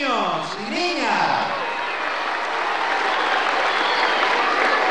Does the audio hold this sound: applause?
yes